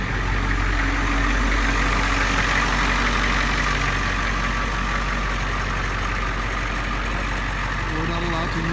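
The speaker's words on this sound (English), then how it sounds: "Oh, I gotta start the bus." A school bus converted into a skoolie idles with a steady, continuous engine rumble throughout, mid-loud and close, with no clear start and no speech over it.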